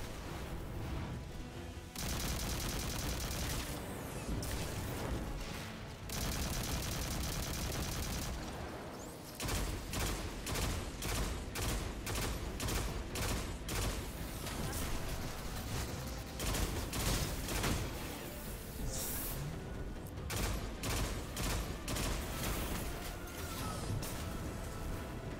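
Dense bursts of gunfire in the shooter game Destiny 2, long sustained volleys giving way to rapid repeated shots, loud and continuous throughout.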